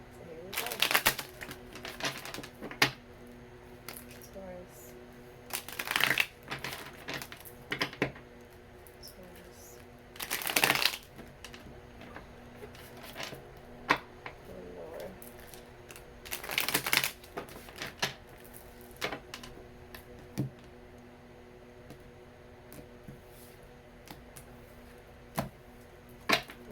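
Tarot cards being shuffled: soft papery riffling and light tapping come in short bursts with quiet gaps, close by, over a faint steady background hum.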